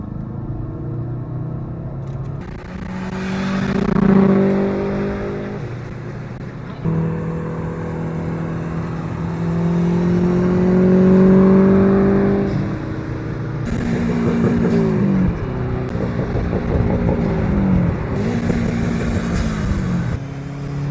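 A Subaru WRX that has a check engine light on is driven, its engine rumbling and rising through the gears in repeated pulls, close and fairly loud, with faint voices at times.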